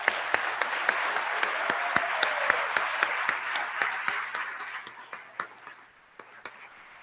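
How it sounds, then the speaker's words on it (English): An audience at an awards ceremony applauds kids receiving awards, with crisp nearby claps over a steady crowd of hands, thinning out and fading toward the end to scattered individual claps. "let's give these kids a round of applause"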